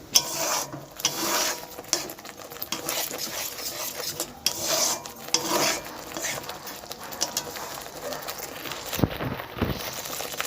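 Mustard and poppy seed paste stirred in a bowl with a splash of water, a busy scraping, rubbing rasp that runs almost continuously at close range with irregular louder strokes and no talk.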